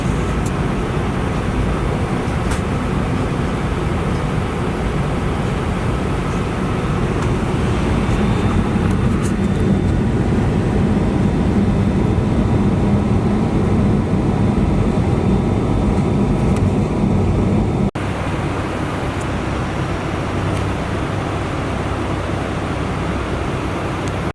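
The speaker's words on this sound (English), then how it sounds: "I'm here on the airplane." Airplane cabin noise during a flight, a loud, steady broadband roar of engines and airflow that holds constant throughout and drops slightly in level near the end, with no talk.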